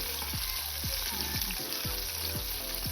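Chicken pieces frying in hot oil for crispy fried chicken, a steady loud sizzle with bubbling crackle throughout and no talking.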